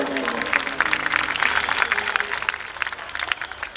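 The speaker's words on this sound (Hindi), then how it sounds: "मैं चाहूंगा एक बार समस्त सेवादारों के लिए आप जोरदार तालियां बजाएं जरा" Audience applause at a Balaji jagran devotional night, a steady crowd clapping that swells and holds for several seconds, moderately loud and mixed with faint background music.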